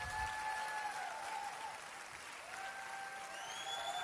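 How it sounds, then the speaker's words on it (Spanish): A church congregation applauding at a worship service, steady dense clapping filling the room, with faint sung or called tones drifting over it. "Fuerte el aplauso,"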